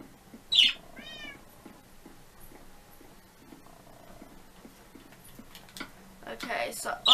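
A cat in the video game Minecraft gives a couple of short, rising meows up close, followed by soft purring and light game sounds, with a louder burst at the very end.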